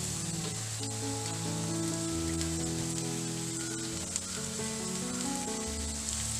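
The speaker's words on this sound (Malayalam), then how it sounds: "അപ്പം നമുക്ക് സവാള ഇട്ട് കൊടുക്കാം." Sliced onions fry in hot coconut oil in a pan, a continuous close sizzle with a crackling, rain-like texture that holds steady throughout.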